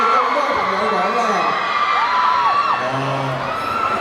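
Fans cheering and whooping at a Hong Kong press conference held in a shopping mall, a loud mass of shouts and yells rising and falling throughout without pause.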